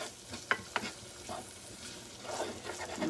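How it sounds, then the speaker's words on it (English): Onions sautéing in a pan for a country-style rice dish, with a soft steady sizzle and a few sharp stirring clicks from a utensil, fairly quiet and close with no talking. "I'm gonna saute these onions and throw the rice in there with it in a minute"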